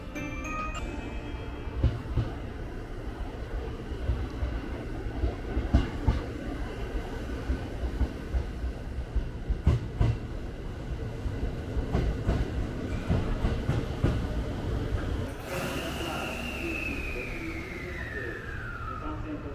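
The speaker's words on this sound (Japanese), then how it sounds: "特急列車松山行き8番乗り場からまもなくの発車です。" An express train bound for Matsuyama rumbles and clatters steadily along the tracks as it leaves the platform, with rhythmic clicks and rattling, ending in a rising whine as it pulls away.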